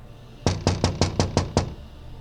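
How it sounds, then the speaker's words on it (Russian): Seven quick, evenly spaced knocks rap on a window at night, loud and close, with nothing else around them. "это какие-нибудь детишки гуляют ночью и стучат в окна, чтобы повеселиться?"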